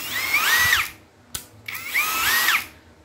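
A mini 3.6V brushless cordless screwdriver drill runs in two separate bursts, each a close, loud, high whine that ramps up in pitch and then cuts off, with a click between them.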